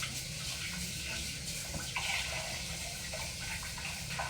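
Running water from a tap splashes steadily and close as hands are rinsed in a home kitchen, with small shifts in the flow and no talking.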